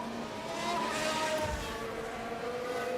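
Aston Martin Formula 1 cars in F1 Manager 24 at the Australian circuit scream past in a brief high-pitched engine whine that swells and fades, with a light hiss around it.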